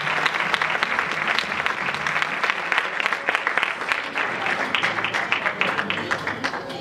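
At a women's council prize ceremony, an audience breaks into dense, steady clapping with sharp individual claps standing out, a faint tonal line beneath it throughout.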